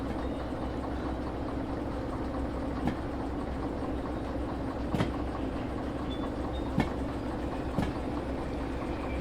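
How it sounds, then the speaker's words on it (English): A train rumbling along steadily in the Derail Valley train simulator game, a constant low engine drone with a few faint clicks and knocks over the top. "This is Derail Valley, train simulator."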